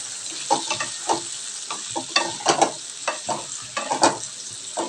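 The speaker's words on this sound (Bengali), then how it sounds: "এই সজনা ডাঁটাগুলো এর মধ্যে আমি দিয়ে দিলাম। এবার এটাকে তেলের মধ্যে ভালো করে নাড়াচাড়া করব।" Drumstick vegetable pieces stirred and fried in hot oil in a pan, giving a steady close sizzle with repeated scraping stirs in an irregular rhythm, no talking.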